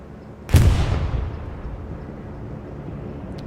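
Bombing run in Hell Let Loose on the Hurtgen Forest map: one heavy, close explosion bursts out, then a long rumbling tail fades slowly into low battlefield ambience.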